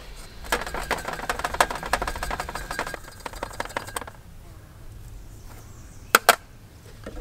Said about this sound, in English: For that, I use a very fine sieve, and I'll put this through